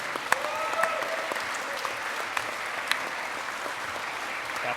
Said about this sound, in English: Just clap until that weird potato gets here.